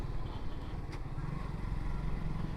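A motorcycle engine drones steadily and close while riding, a low continuous rumble with a brief sharp click partway through, no speech over it.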